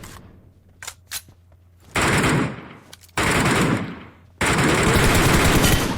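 Automatic gunfire in the shooter game PUBG Mobile: a few sharp single shots, then three loud, sustained rapid-fire bursts separated by brief pauses, close and dominating the sound.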